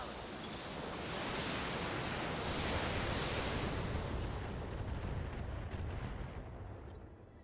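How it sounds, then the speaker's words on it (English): Long-range missile salvo fired in the BattleTech mech game: a sustained, loud roaring rush of broadband noise that swells and holds for several seconds, then tapers off with fainter crackles at the end. "LRMs it is. Firing."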